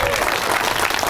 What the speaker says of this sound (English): let's give a huge round of applause to IAM District 166 for hosting us here today